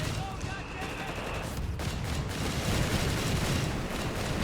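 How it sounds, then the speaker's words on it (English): Mortar fire in Company of Heroes 3 forms a dense, continuous rumble of distant blasts and crackling impacts, with a voice talking over the battle. "Flak 30 crew there feeling the pain of the mortar fire"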